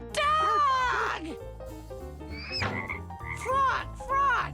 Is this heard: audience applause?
no